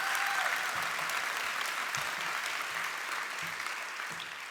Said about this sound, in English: so just give a round of applause to my mom